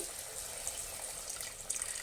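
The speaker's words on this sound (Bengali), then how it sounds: "এখানে প্রায় এক কাপের মতো আরও পানিটাকে অ্যাড করে দিচ্ছি" About a cup of water is poured into a pot of simmering young chicken, a soft close trickle and splash with a few brighter drips, fairly quiet and alone.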